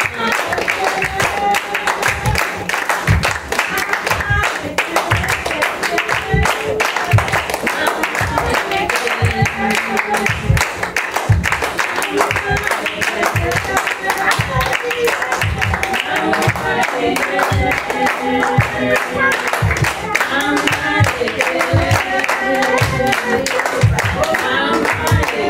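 A church congregation claps in steady rhythm during a praise song, the even beat running underneath singing and voices throughout, with a loud, lively crowd sound.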